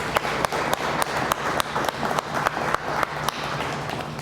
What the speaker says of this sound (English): Can we give a round of applause for Ms.